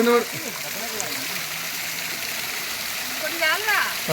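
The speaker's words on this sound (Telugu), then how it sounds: "ఈ ధార ఎక్కడి నుంచి వస్తుందనేది ఎవ్వరికీ తెలియదు ఇది కొండపై నుంచి పడట్లేదు కొండ రాళ్ల బండల మధ్య నుంచి వస్తుంది" A stream of water flows out from between rocks on a hillside at Srisailam, giving a steady close rushing hiss throughout, with people talking over it at the start and near the end.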